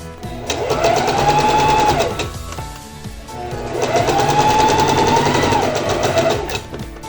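Sewing machine stitching a bust dart on a blouse: two close bursts of rapid, even needle chatter, each about two seconds long, separated by a short pause, with no voices.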